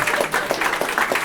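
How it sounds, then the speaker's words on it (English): An audience claps together at an indoor event, a steady wash of many hands with rhythmic swells, fairly loud and close throughout. "Hey, I'm glad everyone's clapping."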